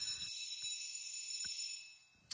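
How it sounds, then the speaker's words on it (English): School bell ringing during a chemistry lecture on acids and bases, a steady bright electric ring sustained for about two seconds before cutting off, heard alone and fairly faint. "Yeah, that was the bell."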